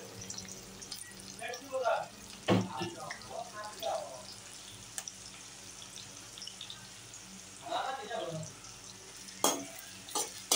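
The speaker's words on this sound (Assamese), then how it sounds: "তেলখিনি ভালকৈ গৰম হ'ব দিব, তাৰপিছত পিঁয়াজ দিব এনেকৈ" Onions frying in hot oil for an Assamese duck curry with ash gourd, a low broadband sizzle running throughout, broken by a few sharp clinks and stirring scrapes, with voices speaking intermittently over it.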